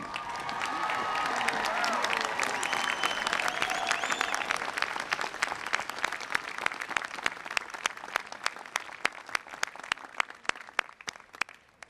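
A commencement crowd at a Rice University graduation applauds Lovett College degree recipients. The clapping is dense and sustained, slowly thinning into scattered individual claps toward the end.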